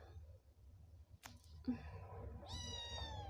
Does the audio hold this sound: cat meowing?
yes